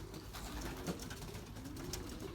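Belgian racing pigeons cooing at the loft, low soft coos rising over a steady outdoor background hiss, close by and continuous for a couple of seconds.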